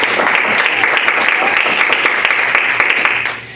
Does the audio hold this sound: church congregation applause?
yes